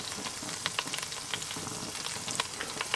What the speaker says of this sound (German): Wir rösten unser Tomatenmark mit an.